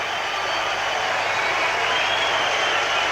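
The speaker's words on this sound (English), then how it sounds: "And this crowd has gone absolutely berserk." A rugby league stadium crowd roars after a New Zealand Kiwis try against Australia in a 1985 Test, a dense sustained wash of cheering and applause, loud and unbroken, with voices mixed into the noise.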